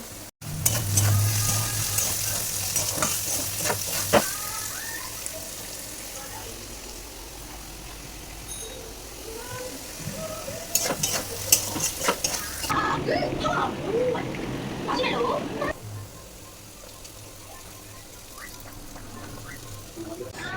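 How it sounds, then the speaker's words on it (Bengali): Chowmein with potato, onion and chili fries in a pan, sizzling steadily with scraping stirs and a few clinks of utensils, close by and moderately loud, while a voice talks intermittently over it. "তাই একটু আলু পেঁয়াজ লঙ্কা টঙ্কা দিয়ে হালকা করে একটু চাউমিন করে দিচ্ছে"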